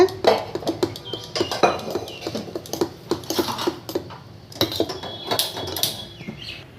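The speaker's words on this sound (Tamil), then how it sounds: "இப்போ நான் நல்லா மாவை கலந்துட்டேன்" Spoon stirring balloon vine leaf dosa batter in a bowl, giving a string of irregular close scraping and clinking taps over several seconds, with no talking.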